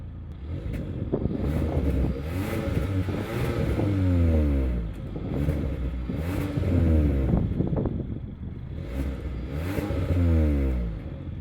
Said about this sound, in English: Let's go do a startup and hear what the engine sounds like.